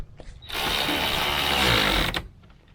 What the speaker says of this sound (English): Just with a ratchet and that, just so I know they're spot on.